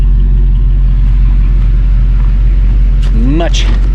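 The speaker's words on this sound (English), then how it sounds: "let's try out this new compressor." A new air compressor on an RV runs with a loud, steady low drone close by, and a brief rising whine cuts through near the end.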